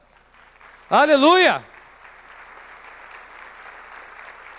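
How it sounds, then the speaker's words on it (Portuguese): A church congregation breaks into brief, loud applause after a shout of praise, and a quieter murmur of the crowd lingers afterward. "Então aplauda ao Senhor."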